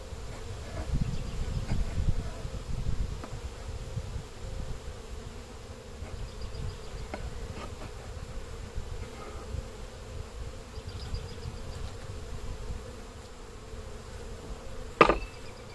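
Bees drone steadily around an open Kona hive, a soft continuous buzz close by with occasional clicks and knocks of frames being handled and one sharp tap near the end.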